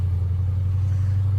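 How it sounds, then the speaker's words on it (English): A Dodge Challenger ScatPack idles at a red light, its exhaust giving a steady, deep low rumble that holds constant and close throughout without revving. "I like listening to the sound of the exhaust on this car."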